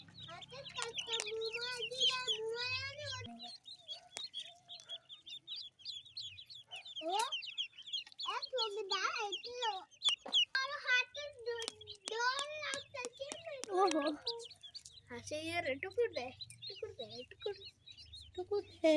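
Ducklings kept in an enclosure newly set up at home peep in rapid, high, chirpy bursts that come close and fairly loud over about twenty seconds, with a low hum at times and people talking now and then.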